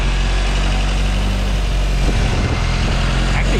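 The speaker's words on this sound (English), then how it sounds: "now we're getting the timing dialed in and adjusting the idle and the carburetor" A Triumph TR3 engine idles steadily after timing and carburetor adjustment, a low continuous rumble with a slight unevenness near the end, close by.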